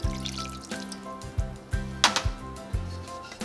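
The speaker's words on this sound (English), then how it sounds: "Now I'm just going to add water," Water poured into a pan of ground beef and tomato meat sauce, a short close sequence of splashing and gurgling with rhythmic knocks of the pan or utensil.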